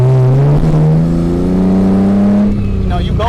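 A 1998 Ford Mustang V6 engine accelerates, its tone rising steadily in pitch and loudness as the revs climb, then easing off near the end; the engine note is loud and close.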